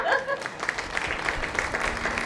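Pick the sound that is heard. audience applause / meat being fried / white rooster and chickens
audience applause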